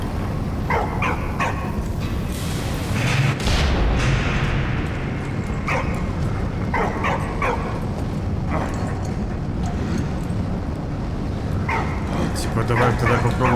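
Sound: dog barking in video game Valiant Hearts

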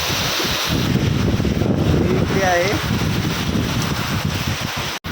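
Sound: strong wind and rain at Mandwa jetty

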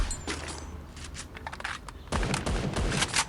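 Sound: gunfire in Free Fire video game

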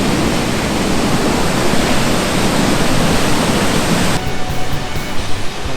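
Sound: large waterfall

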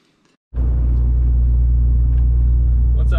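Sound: driving in a truck

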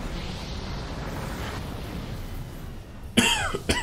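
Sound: character coughing in Mass Effect 2 video game

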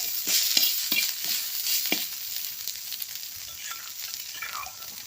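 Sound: beef added to a pan and stir-fried, sizzling

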